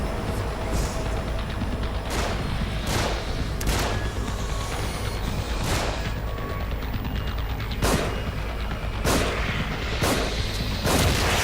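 Gunshots ring out in The Evil Within, sharp and repeated over a dense, continuous wash of game noise. The shots are irregularly spaced, and a few heavier booms punctuate them.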